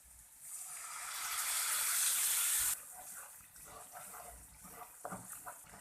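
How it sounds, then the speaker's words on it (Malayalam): Hot water gushes steadily into a pan of paneer green peas masala curry for a few seconds, then stops, leaving faint kitchen clatter and stirring. "ഇതിലേക്ക് ആവശ്യത്തിന് ചൂടുവെള്ളം ഒഴിച്ചു കൊടുക്കാം"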